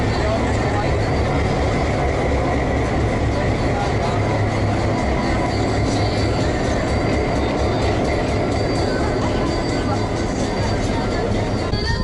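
A tourist railway locomotive on the Verde Canyon Railroad in Arizona shunts to the opposite end of the train, giving a steady, loud rumble of engine and rolling stock for the full stretch, with faint voices underneath.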